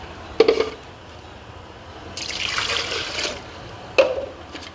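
Water poured from a jug into a cooking pot while making kadhi pakora, a broad splashing pour of about two seconds in the middle, framed by a few sharp clinks of the jug against the pot.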